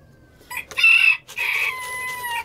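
Farm coop hens and a rooster make a loud, close burst of squawking clucks followed by a drawn-out crow, with no talking.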